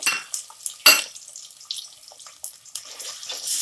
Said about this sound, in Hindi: आलू को हम तलाते हुए भूनेंगे।